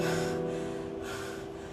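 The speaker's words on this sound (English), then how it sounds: "I'm panting a lot" Heavy, loud breaths come close to the mic in a couple of long gasping pulls after a bout of exercise, with no talking.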